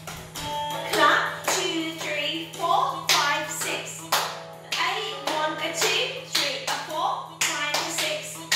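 During a prep tap dance practice, children clap and tap in rhythmic bursts while an instructor speaks and counts over them, with a steady low hum running beneath everything.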